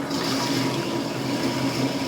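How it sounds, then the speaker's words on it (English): Water pump running as it fills a RIMS tube on a home brewing rig for an American brown ale, a steady close whoosh of flowing water with a faint motor hum, continuous and unbroken. "I want to turn the pump on. All right, it's filling my rims tube up"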